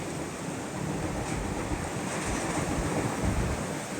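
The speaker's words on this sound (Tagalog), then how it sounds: "Lakas ng alon." Strong ocean waves during Typhoon Uwan roar continuously, a broad rushing surge with wind buffeting the microphone throughout.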